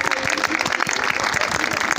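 Loud audience applause at a children's school carnival costume parade, dense steady clapping from many hands throughout.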